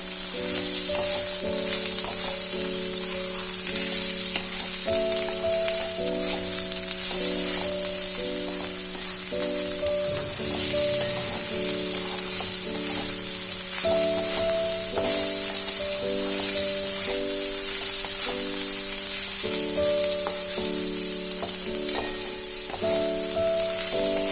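Fenugreek greens with eggplant and potato sizzle steadily in a pan while being mixed, a constant bright hiss beneath louder background music throughout.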